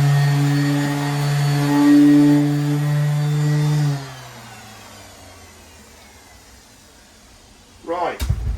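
A power saw whines loudly and close for about four seconds while cutting away a wooden lip inside a boat cabin, then stops, followed by quiet and a brief rough burst of sanding or tool noise.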